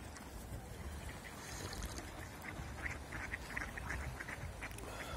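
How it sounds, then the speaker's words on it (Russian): About forty ducks on the water, fed bread, quack in scattered bursts over a steady low rumble of outdoor noise, the calls moderately close and overlapping. "Утки кормятся."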